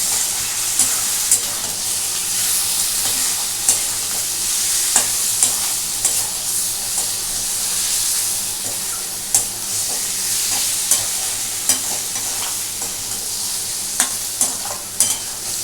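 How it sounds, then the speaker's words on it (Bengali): Spices with turmeric and Kashmiri chilli powder being stir-fried in a pan, a continuous close sizzle with regular scraping strokes of a spatula throughout. "এটাকে ভালো করে এখন আমি কষবো।"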